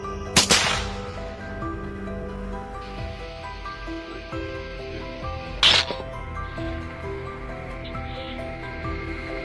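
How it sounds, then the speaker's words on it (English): Two sharp gunshots ring out about five seconds apart during a nighttime wild boar hunt, each a sudden loud crack over a steady droning tonal background. "sharp gunshots cracked one after another as wild hogs fell to the ground"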